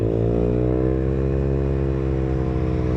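A Peugeot Kisbee scooter engine fitted with an aftermarket exhaust, a loud, steady, close buzzing drone whose pitch slowly falls and settles, alone without talk.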